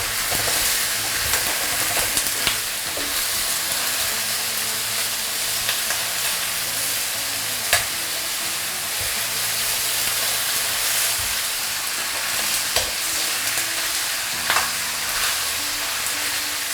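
Fish pieces pan-frying in oil in a wok, a steady broadband sizzle and hiss running throughout with occasional soft clicks and scrapes, fairly loud and close, with no talking.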